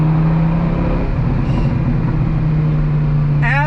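A 2006 Dodge Viper SRT10 with its V10 engine holds a loud, deep, steady drone, with a brief rise in pitch near the end as the engine revs.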